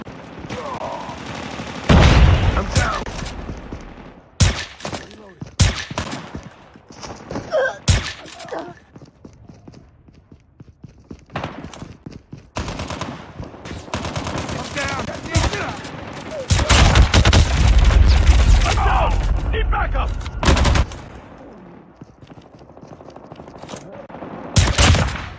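Bursts of gunfire in the mobile shooter game Call of Duty Mobile, rapid volleys and single shots scattered across the stretch, loud and close, with brief game voice cues between.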